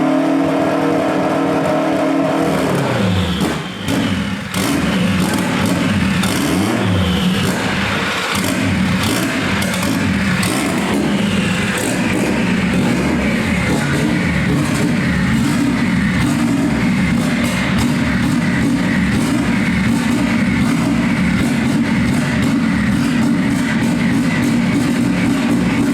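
Car engine fitted with two injectors in one hole cranking and catching, then settling into a steady, loud idle with a continuous throbbing hum close by.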